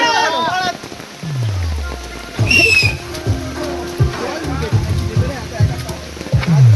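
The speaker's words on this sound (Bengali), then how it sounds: "এখন প্রচুর পরিমাণে বৃষ্টিপাত হচ্ছে" Continuous rain noise runs underneath, and loud voices talk over it throughout.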